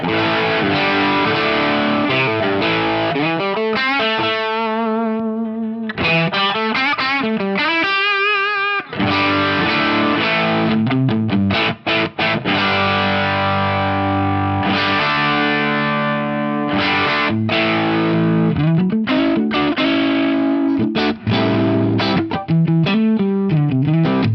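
A loud, saturated electric guitar through a CTC Unobtainium overdrive pedal, combining Dumble-style and Klon-style circuits, plays sustained chords and riffs with a thick, fuzzy tone and some shimmering modulation, continuous throughout.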